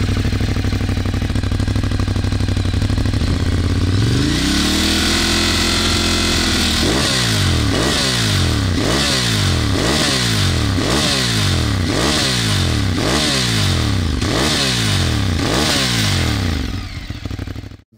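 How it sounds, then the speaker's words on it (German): A motorcycle engine idles, then revs up repeatedly in strong rhythmic bursts, loud and close, each rev rising and falling. "Der Motor hat kräftigen Druck."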